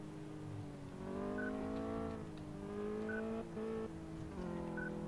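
A car engine in Car Mechanic Simulator 2015 revs in steady tones that drop and climb again at each gear change, the whine of the engine heard fairly quietly with no talk over it.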